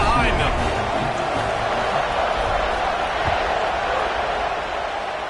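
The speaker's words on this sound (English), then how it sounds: "this crowd now ready to get behind them" Stadium crowd at a football game as the kickoff approaches, a steady loud broadband roar filling the whole clip with no distinct cheers or claps standing out.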